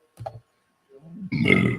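A loud, drawn-out burp erupts after a brief murmur, a single rough belch with a rising, raspy texture that lasts about half a second near the mic.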